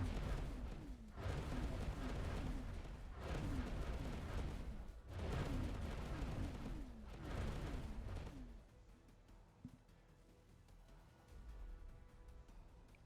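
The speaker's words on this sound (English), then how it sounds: "Explosion imminent." Repeated heavy blasts and rolling gunfire thunder around a space station in the game X4, with three long booming surges followed by quieter scattered impacts and a faint sharp crack.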